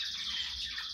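A large exhibition-type budgerigar chirps in a steady, dense chatter of high twittering notes, close and continuous with no pauses.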